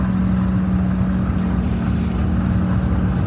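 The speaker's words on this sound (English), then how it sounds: "1951 John Deere Model B." A 1951 John Deere Model B tractor engine runs in a tractor parade at the Rough and Tumble Engineers Historical Association, giving a steady, loud, close drone that holds evenly throughout with no talk.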